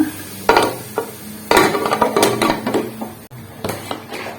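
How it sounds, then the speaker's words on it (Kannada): Pressure cooker lid being fitted and closed over masala rice, a series of close metallic clanks and scrapes in irregular bursts, with one sharp click partway through. "ಕುಕ್ಕರ್ ಲೀಡ್ನ ಕ್ಲೋಸ್ ಮಾಡೋಣ"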